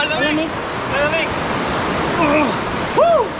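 The cold, fresh water of the Nambalan River in Tarlac rushes as a constant broadband wash, while excited voices call out over it nearby.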